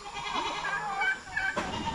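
A goat bleats on a farm, a single wavering, drawn-out call at moderate distance with no voices.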